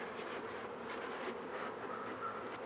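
Honeybees buzz steadily during a beehive inspection, a soft, even hum of many insects with no voices.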